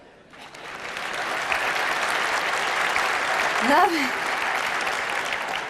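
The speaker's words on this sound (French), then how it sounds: "les hommes qui sont d'accord avec ça, applaudissez" Comedy-show audience applauding, a broad continuous wash of clapping that swells in quickly and holds steady for several seconds, with a brief vocal exclamation rising above it near the end.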